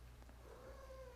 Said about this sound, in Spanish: Ese es el gato.